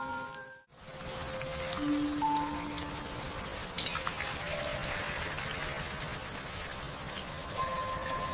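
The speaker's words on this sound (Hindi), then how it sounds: "कितनी तेज बारिश हो रही है।" Heavy rain falls in a dense, continuous patter with a few faint tonal sounds drifting through, steady and fairly loud apart from a brief dropout near the start.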